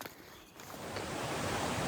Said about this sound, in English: I can hear some water ahead.